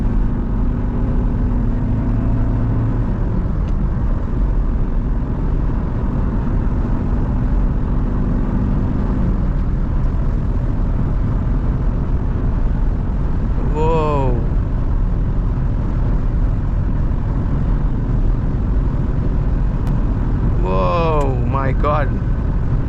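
A Honda City engine on a spirited drive holds a loud, steady drone at speed with a constant road and wind roar. A voice speaks over it, and a few brief rising whines stand out.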